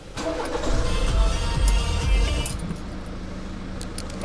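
A car engine cranks and catches during a used-car viewing before a sale, the low rumble rising near and loud and then settling into a steady idle, with no talk over it.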